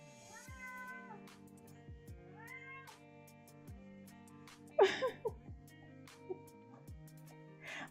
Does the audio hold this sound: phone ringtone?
no